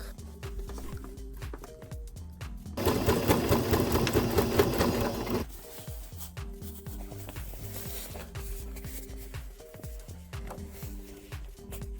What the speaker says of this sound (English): I sew the cord in a circle.